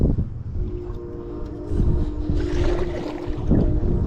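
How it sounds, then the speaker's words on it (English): Wind buffeting a microphone outdoors on an island, a continuous low rumbling roar that swells and gusts louder midway, with a faint steady tone underneath and no talking. "Wind."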